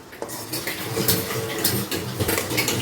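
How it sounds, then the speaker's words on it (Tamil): Goat brain fry being stirred gently in a pan with a metal spoon, steady clinks and scrapes against the pan continuing throughout at close range. "மெதுவாக தான் கிண்டணும் பாருங்கள் இந்த மாதிரி தான் கிண்டணும்"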